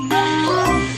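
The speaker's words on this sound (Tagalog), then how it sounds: "Parang tunog ng cellphone." A cellphone rings with a bright tinkling, chime-like jingle, loud and close, its tones repeating over a steady sustained hum.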